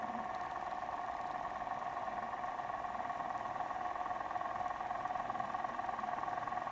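An electric motor runs on a Lenz test bench at about 1000 RPM, giving off a steady, fairly quiet whining hum with tonal bands that holds constant throughout.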